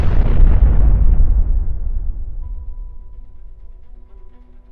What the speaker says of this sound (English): triggered a giant explosion that sent the vehicles flying 30 feet into the air